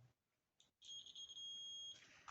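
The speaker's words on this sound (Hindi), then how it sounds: "ये बीप का साउंड करने लगा" A digital multimeter gives a continuity beep while a fuse is tested, a short blip followed by a sustained, fairly loud electronic tone lasting about a second, then a brief chirp at the end, with no talking.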